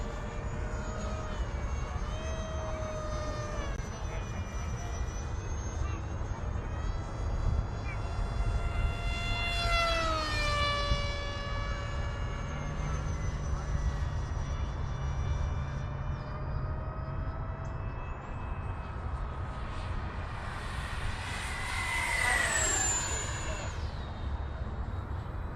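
An FMS Futura 80mm EDF RC jet flies overhead, its steady high-pitched turbine whistle rising and falling in pitch as it passes, with a sharp sweeping crescendo near the end over constant outdoor background noise.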